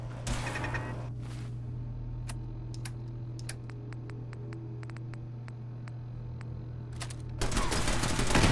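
Automated turrets in Fallout 4 fire a string of sharp, evenly spaced single shots, fairly quiet and clicking, between louder bursts of gunfire at the start and the end.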